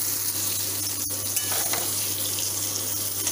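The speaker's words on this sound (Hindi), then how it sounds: "ये इधर परवल फ्राई हो रही है" Pieces of parwal, or pointed gourd, fry in a pan with a dense, even sizzle, steady and close, broken by a single sharp click near the start.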